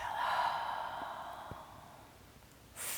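A long, soft exhale through the nose or mouth during a calming yoga class, a gentle breathy rush that fades slowly, quiet and close with no talking.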